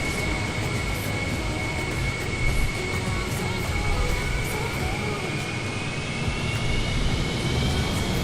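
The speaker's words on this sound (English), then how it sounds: "Now, this aircraft is massively loud." Concorde engines in Microsoft Flight Simulator give a loud, steady broadband roar with a high sustained whine running throughout, a continuous wash of jet noise with no break.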